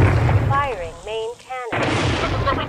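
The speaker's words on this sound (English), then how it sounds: "Firing main cannon" A tank's main cannon fires in Halo machinima, a heavy booming blast with a rolling rumble that fills the clip, briefly broken by a spoken voice in the middle.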